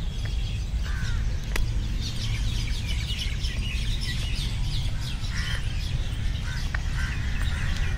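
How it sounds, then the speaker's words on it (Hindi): Crows cawing in a tree beside a lake, with repeated harsh calls over steady background noise and a few other bird chirps. "अरे वाह, कौवे है इस पेड़ पे।"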